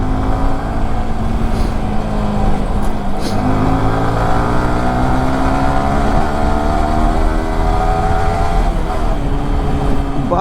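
Yamaha R15 V3 motorcycle exhaust while riding and shifting gear to gear, with a loud, steady, close engine drone and revs that climb, drop at shifts and climb again.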